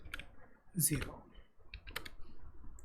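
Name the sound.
typing on a computer keyboard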